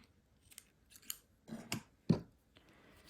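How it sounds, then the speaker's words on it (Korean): Scissors snip off the yarn tail of a small crochet amigurumi piece. A few quiet, close metallic snips and rustles come in an irregular sequence, and the sharpest cut falls near the end. "다음 안고 떴던 요 꼬리실은 잘라주세요."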